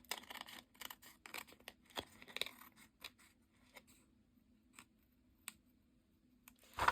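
Scissors trim excess from the edge of a card in a close, quiet series of crisp snips, clustered at first and then sparser with pauses between cuts.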